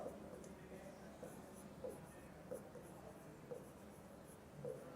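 Chalk or marker writing on a board during a maths lesson, a faint steady scratching with small periodic taps over a quiet room hum, no talking heard.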